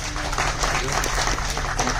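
An audience at a press event with a film director claps in a short, steady burst, with voices murmuring under the applause throughout.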